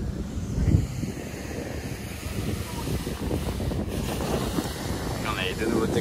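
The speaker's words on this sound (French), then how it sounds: "je m'excuse pour le vent s'il y a un peu de vent" Wind buffets the microphone outdoors at a supercar meet in a rough, gusty rumble that lasts the whole stretch, while someone talks over it.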